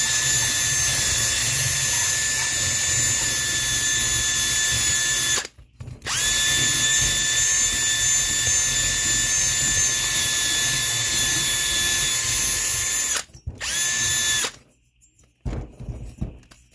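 A high-pitched power drill whines steadily while porting and polishing a Tillotson 224cc engine head, loud and close, cutting out briefly twice before stopping amid clatter at the end.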